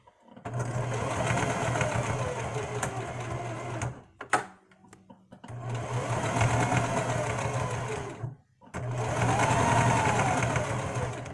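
A sewing machine stitching fabric runs in three long, loud, steady bursts of rapid mechanical whirring and clatter, each separated by a short pause with faint handling clicks.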